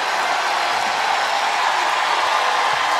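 Arena crowd at a women's college basketball tournament game, South Carolina playing in the SEC Tournament, applauding steadily as a timeout begins; a dense, continuous wash of clapping and cheering, loud and unbroken, with no distinct voices.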